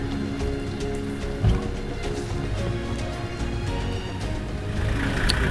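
Rain falling in the Zimbabwe bush, a steady patter of drops on surfaces with a low engine-like hum underneath, plus a brief knock and a few brighter drip sounds, continuous and moderately loud throughout.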